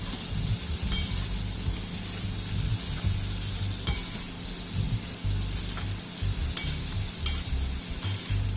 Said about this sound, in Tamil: நல்லா அந்த மாதிரி கிளறி விட்டுருங்க.